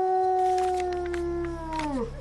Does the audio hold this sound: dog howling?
yes